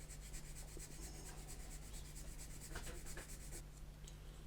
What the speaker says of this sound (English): with a sanding stick, just thin that down a little bit.